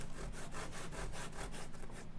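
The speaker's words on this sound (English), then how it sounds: "Another method is you can lay the sandpaper flat on a table" Sandpaper laid flat on a table rubs back and forth against the edge of a leather wallet, a quiet, rapid, rhythmic scratching of about ten even strokes with no talking.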